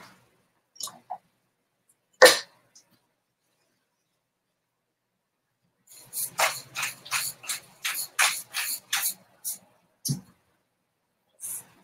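A hand grinder cranks salt and pepper over baby spinach for a quiche, a quick run of about ten dry ratcheting crunches after a few isolated clicks and taps, close and clear in a quiet kitchen.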